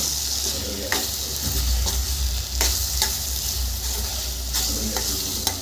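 A tomato-onion masala with chili powder stirred in a hot pan for egg curry, a continuous close sizzle broken by regular scraping strokes of a spoon roughly every second, loud and steady, with no voices.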